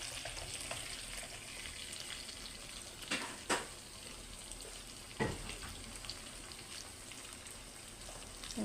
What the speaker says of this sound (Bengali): একদম মৃদু আছে, মাছটাকে ভাজবো।